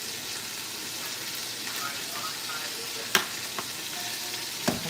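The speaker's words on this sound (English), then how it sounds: "now that we've browned our meat, we've got fond forming on the bottom of the pan" Meat browning in a hot pan with fond forming on the bottom, a steady close sizzle and crackle with a few sharp spatters and utensil scrapes.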